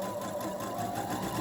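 A sewing machine runs steadily while sewing elastic, a continuous close mechanical whir through the whole short stretch with no talking.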